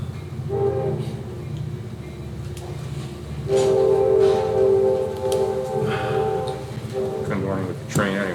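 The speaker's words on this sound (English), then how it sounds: "Couldn't do anything with the train anyway" A train passes with a sustained, loud horn blast rising in the middle, rumbling and clacking underneath, while people talk faintly in the background.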